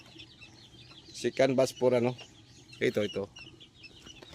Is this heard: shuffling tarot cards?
no